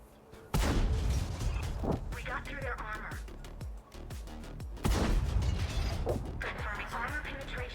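Tank cannon shots from the ShPTK-TVP 100 in World of Tanks, two heavy booming blasts a few seconds apart amid mechanical clanks and creaks of the game's battle sounds, fairly quiet overall.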